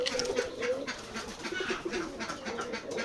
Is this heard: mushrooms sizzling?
no